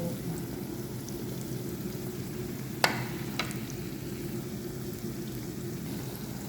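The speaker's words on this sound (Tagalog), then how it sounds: "bakit maraming mga panakot yung pagprito ko ng tuyo" Dried fish frying with onion, chili and garlic in a pan, a steady low sizzle throughout with a couple of brief sharp pops or utensil taps near the middle.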